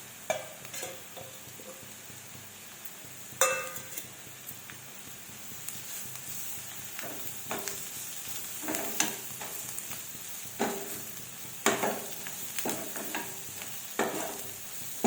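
Goat brain is stir-fried in a pan, with a spatula scraping in repeated, fairly quiet strokes over a soft sizzle.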